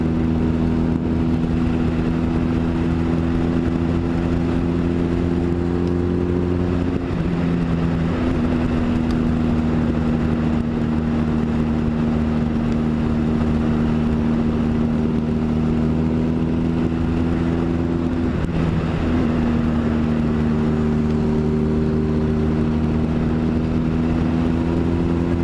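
A Honda Rebel motorcycle engine drones steadily while riding, a close, continuous mid-pitched hum whose tone shifts a couple of times as the gears change, with wind rushing underneath and no talking.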